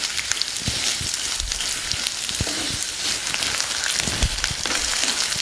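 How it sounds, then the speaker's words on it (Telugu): Chopped onions and curry leaves frying in a pan for a black chickpea gravy, a steady loud sizzle with scattered sharp pops and spatters, no voices. "వీటిని ఒక 5 నిమిషాలు బాగా వేగనిద్దాం."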